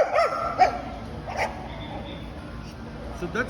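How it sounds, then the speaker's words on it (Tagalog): A dog gives a few short barks and yips at moderate distance, scattered across the moment while a person talks. "siya lang yung tumatahol"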